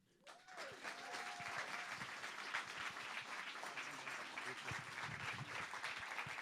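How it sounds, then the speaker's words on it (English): A live audience breaks into sustained applause after a talk at a March 2025 event, the clapping rising quickly and holding steady, dense and full throughout. "Another big round of applause."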